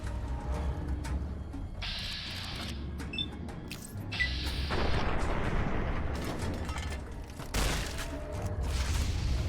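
Gunfire in the video game Fallout: New Vegas, with several sharp shots and heavier booming blasts in irregular bursts over game ambience, loud and close.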